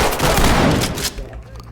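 Shotgun fire in the tactical shooter game Ready Or Not, a loud, close burst of blasts that fades quickly into a short tail.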